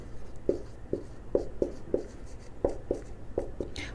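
Chalk or marker writes a chemical equation on a board in a classroom, giving about a dozen short, distinct scratchy strokes at an uneven pace, fairly quiet and close, with no voice over it.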